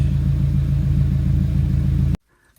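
A 2018 Subaru WRX fitted with a Tomei unequal length header rumbles at a loud, close, throbbing idle, then the sound cuts off abruptly near the end.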